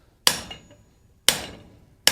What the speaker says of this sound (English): just be accurate with your hammer blows, as accurate as you can be